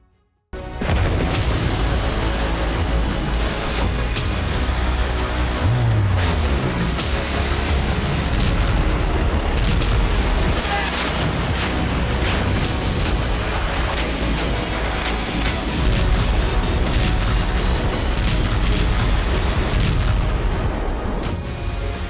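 Army soldiers in white uniforms fire guns and grenade launchers among snowy rocks, loud continuous gunfire with repeated booming blasts rolling through the whole stretch, close and heavy with no talk.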